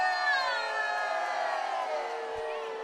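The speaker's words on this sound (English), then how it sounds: "Golden fans booing." Golden softball fans boo steadily at the Colorado 4A state championship game against Erie, a loud sustained crowd drone that holds without a break from start to finish.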